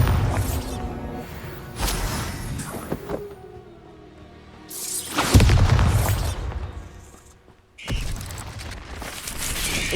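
Bombarda spell blasts in the wizarding game Hogwarts Legacy: several loud booming bursts with crackling, shattering debris, arriving in separate waves across the span, with brief quieter gaps between impacts.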